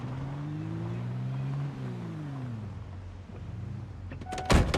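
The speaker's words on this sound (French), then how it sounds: "Je laisse le moteur tourner." A car engine idles in the Project Zomboid video game, a steady low hum with shifting tones, then a brief sharp clatter near the end.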